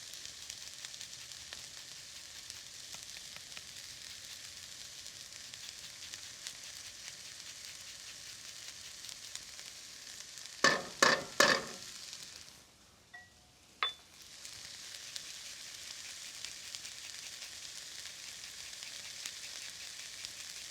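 Vegetables with grated garlic sizzle steadily in a hot pan for a mushroom filling, with a few sharp utensil clinks near the middle and a brief pause before the frying resumes.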